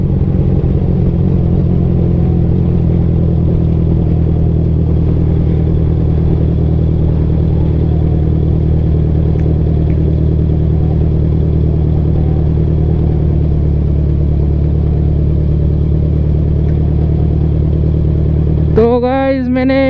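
A Honda CBR650R motorcycle engine lugs along at low speed in a high gear, a steady, loud low drone held without letup; a short higher-pitched sound breaks in near the end.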